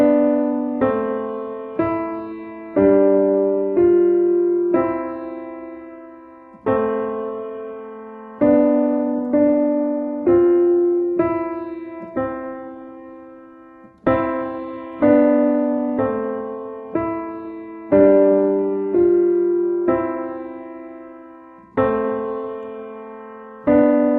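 Piano piece played with both hands, a beginner's study: steady phrases of bass notes under a melody, repeated in sections with brief pauses, clear and close with no talking.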